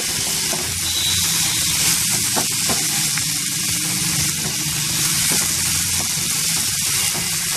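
Loud, dense sizzling of frying in a hot pan for chicken keema, with garlic, green chili, tomato and capsicum, a steady close crackle with faint stirring scrapes and no talk.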